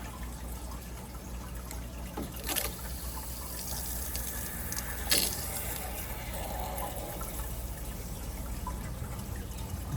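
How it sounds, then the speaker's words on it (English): Water runs steadily into a permanent drain system tank, a continuous wash of flow with a couple of brief louder splashes or bumps along the way, no talking. "I'm going to watch the water level go up a little. That way I know water's actually coming in."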